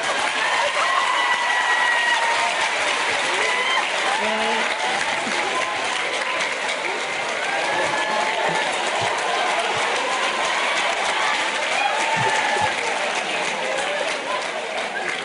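An audience at an event with President Paul Kagame breaks into sustained, dense applause, a steady roar of clapping that holds evenly throughout with faint voices beneath.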